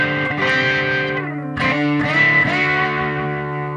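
Electric guitar, a single-coil Telecaster-type, played through an Earthquaker Devices White Light Overdrive pedal set for a fatter overdriven tone; two sustained, ringing distorted chords sound loud and close, with no talking.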